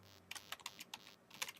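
Someone types on a computer keyboard: a short, quiet burst of quick, uneven key clicks with no talking.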